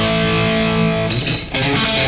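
A twangy electric guitar lick, played a little faster, keeps a bright effected tone; a held chord sounds first, then quick picked notes follow without a break.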